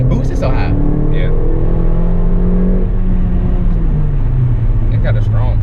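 A Mercedes CLA45 AMG engine drones loudly from inside the cabin as it accelerates, its pitch rising and then easing back, while a voice talks over the steady roar.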